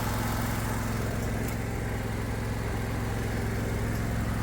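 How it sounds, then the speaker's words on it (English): A lawn mower engine running steadily close by, a dense continuous drone with a loose muffler guard at the bottom adding a rattling buzz, no talking. "Now that muffler guard at the bottom is making some noise."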